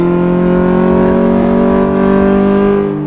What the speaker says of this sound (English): these engine sounds aren't very nice